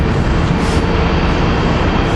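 Train 9784 from Trenton, four rail cars long, rolls into a station with a loud, steady rumble and roar that holds at close range the whole time, with no voices over it.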